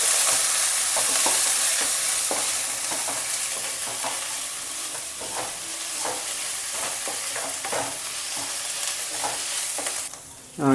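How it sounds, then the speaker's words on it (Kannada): Urad dal and spices are stirred briskly in a hot pan, a steady sizzle with repeated scraping strokes for bitter gourd gojju, running alone without talk. "ನೀವು ಕೈ ಬಿಡಬಾರ್ದು, ಹಿಂಗೆ ಗೂರಾಡ್ತಿರ್ಬೇಕು"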